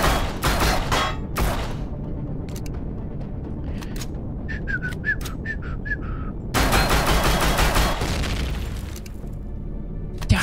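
Heavy gunfire in Empyrion Galactic Survival, loud bursts at the start and again later with booming impacts, and a quieter stretch between with faint mechanical beeps and tones.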